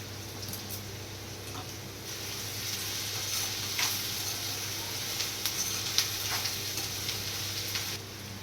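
Onions sizzle steadily in a hot pan while a dried-prawn curry is cooked at home, with faint clicks and stirring scrapes over an even crackling hiss.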